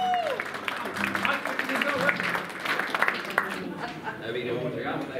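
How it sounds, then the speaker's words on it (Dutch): Applause and cheering from an audience for a lady at a St. Nicholas visit gathering, a dense continuous wash of clapping with voices talking and calling out over it. "Doe dan een klappen voor die mevrouw."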